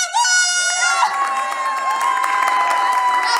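Young classmates cheer loudly for a schoolmate, with excited shouts and whoops in several voices and a light, scattered patter of clapping beneath, sustained throughout.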